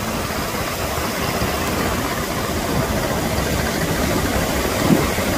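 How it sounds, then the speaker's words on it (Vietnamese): A steady low rumble from the engine of a large fishing boat approaching from offshore drones throughout at an even, moderate level, with no voices. "Ở ngoài kia có một chiếc ghe nó đang vô nha các bạn."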